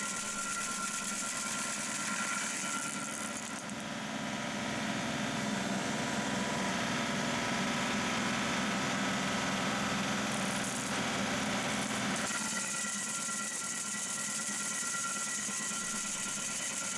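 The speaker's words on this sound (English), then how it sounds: "here I'm also pointing out the grinder, the way it throws that discharge out" Woodland Mills WG24 stump grinder running behind a tractor, throwing out discharge, gives a steady, loud engine drone with a constant mechanical hum and vibration throughout.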